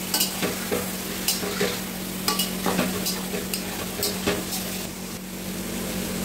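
Marinated mutton frying in a pan, giving a steady close sizzle with scattered stirring scrapes and clicks throughout, and no voices.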